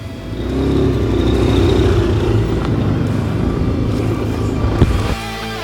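A buggy's engine drones loud and steady on a hard enduro track, rising and holding with rough rumble, then tapering near the end with a bump.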